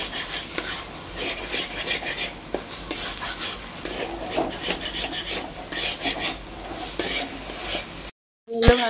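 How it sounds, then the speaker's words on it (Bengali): Vegetables for street-style egg chowmein are tossed and fried in a pan, a steady rasping, scraping stir with light sizzle running continuously before a brief silence near the end. "এগুলো ভালো করে মিক্স করে নিয়ে ভাজছি বন্ধুরা, যাতে ভাজাটা আরো সুন্দরভাবে হয়"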